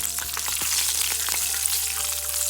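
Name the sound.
cashews frying in ghee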